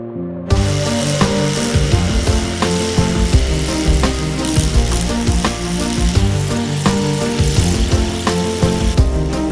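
A power drill and bolting gear work on a new climbing route up the central wall of a cave, a loud, dense mechanical grinding with rapid repeated clicks that runs unbroken throughout.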